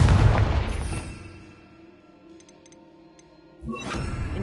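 The Confringo explosion spell from Hogwarts Legacy, a loud booming blast at the start that rumbles and decays, faint chimes in the quiet middle, then a second sharp burst near the end.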